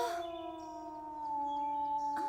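A wolf howling in a cartoon, one long sustained tonal howl that holds steady and rises slightly, clear and alone against a quiet background.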